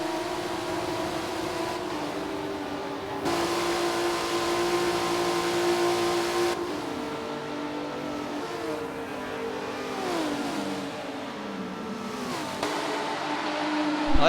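Race car engines revving and whining through a video game race at Dubai, a Supra among the field, with several engine notes rising and falling in pitch as cars accelerate and shift, loud and continuous with no talk.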